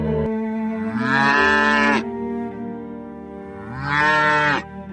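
A cow moos twice, each a loud, drawn-out low call rising in pitch, separated by a few seconds of quiet, over a faint steady background.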